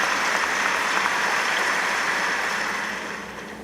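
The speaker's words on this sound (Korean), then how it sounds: "이날 이거 기립박수가 시작과 동시에 계속 터지고 있습니다" A dense, sustained wash of standing-ovation applause fills the US Congress chamber, steady and loud throughout, then easing slightly toward the end.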